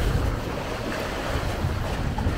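A sailboat under full sail, leaving the Sine Saloum under a grey sky in a light wind: a steady, even rush of wind and waves against the hull runs throughout, with no talking.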